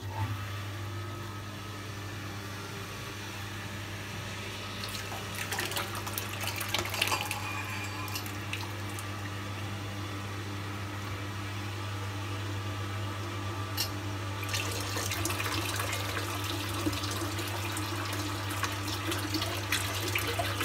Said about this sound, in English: switch on the third pump, which will pump the wort through the heat exchanger